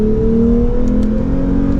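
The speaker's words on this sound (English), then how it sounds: "So it's got a healthy exhaust note to it." A 2024 Lexus IS350 F Sport V6 exhaust rises in a close, loud rev, its pitch climbing steadily over a brief stretch with no talking.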